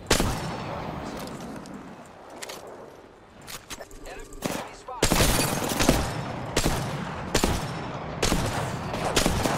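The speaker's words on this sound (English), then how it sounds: "Oh my god, I'm getting shot at by another team." Bursts of rapid gunfire from an enemy team in the video game Apex Legends, loud and sharp, with repeated volleys and a lull midway before heavier sustained shooting resumes.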